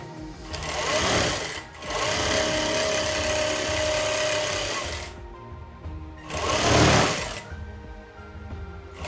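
A sewing machine stitches the side seam of a skirt-and-blouse outfit in two bursts, a fast loud rattling whir running several seconds, stopping, then starting again briefly, close by with no talking.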